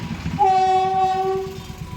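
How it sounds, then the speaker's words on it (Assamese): A train horn sounds one long, loud steady blast over the rumble of a passing train at night. "এইফালে ট্ৰেইন আহি আছে"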